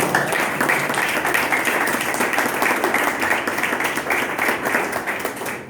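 Worshippers in a Sunday school Bible class clap for the Lord in steady, lively applause with audible individual claps, filling the whole stretch without speech.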